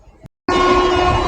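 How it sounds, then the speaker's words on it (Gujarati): The Bhavnagar–Porbandar passenger train (59560) runs at speed with a loud, continuous rumble and rattle that starts abruptly after a brief silent cut, with sustained tonal whine over the noise. "ચાલો મિત્રો, તો ટ્રેને સ્પીડ પર પકડી લીધી છે"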